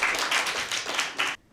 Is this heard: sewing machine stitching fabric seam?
no